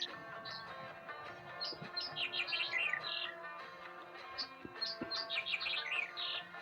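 Migratory birds in Balochistan chirping near a hut, repeated bright twittering bursts in clusters over a steady background hum, fairly close and lively, with no voices.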